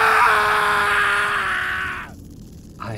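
A person screams in a horror audio drama with a long, loud, sustained cry that fades and cuts off. It ends with a brief low sound.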